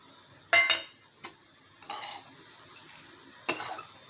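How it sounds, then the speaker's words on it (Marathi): Roasted coconut and jaggery stirred in a pan for ukadiche modak filling: a few sharp scrapes and clinks of a spoon against the pan, with quieter stirring and soft sizzling between them. "आणि गूळ टाकल्यानंतर पाच मिनटं असं हलवून घेते"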